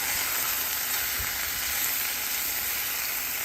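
Chicken pieces browning in a frying pan before going into a crock pot give a steady, soft sizzle and hiss throughout, fairly quiet and even, with no talking.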